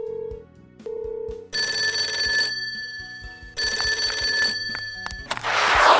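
A cartoon telephone rings in bursts to call a medical rescue team, preceded by short toy-like tones, with two long electronic ring phrases and a brief noisy burst at the end, fairly loud and without talk.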